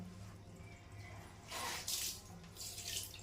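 Water running from a tap while clothes are washed by hand at home, a soft steady trickle with louder splashing bursts of water in the second half.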